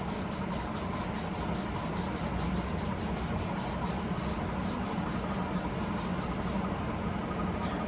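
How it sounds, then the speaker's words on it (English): A Scotch-Brite prep pad scrubs pickled and oiled steel roll cage tubing in a steady, continuous abrasive rasp with rapid rhythmic strokes, close and loud throughout, with no talking. "I use, it's like a Scotch-Brite prep pad."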